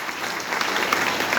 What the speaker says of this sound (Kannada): ಜೋರು ಚಪ್ಪಾಳೆ ಮಕ್ಕಳಿಗೆ